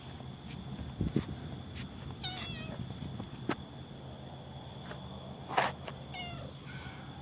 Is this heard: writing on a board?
no